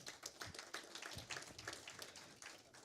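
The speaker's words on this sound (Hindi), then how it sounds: "जोरदार तालियां इनके लिए।" An audience claps for a singer at a live music gathering, quick, uneven hand claps spread across the room, moderately close, with no speech over them.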